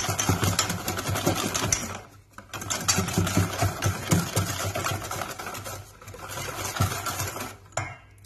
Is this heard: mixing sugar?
yes